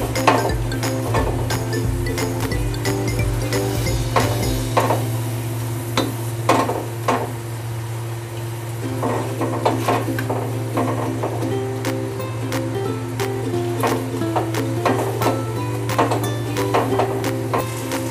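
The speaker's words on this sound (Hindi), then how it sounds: "अब इसको हम फ्राई कर लेंगे।" Mashed potatoes and chickpeas fry in a pan with a constant sizzle, while a utensil stirs and scrapes in repeated sharp clinks and knocks, close and fairly loud, over a steady low hum.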